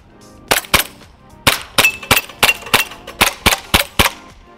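An EMG Strike Industries ARK gas blowback airsoft pistol fires outdoors in about a dozen sharp, close, snappy shots, first as a pair and then as a quick, fairly even string.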